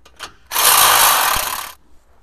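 An electric drill bores a hole with coolant through the metal of a 2022 Suzuki Jimny JB74 while a Predator bar is fitted, one sustained loud whining grind of about a second, preceded by a brief short burst.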